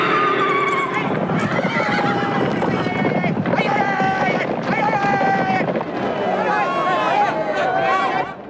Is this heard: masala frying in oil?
no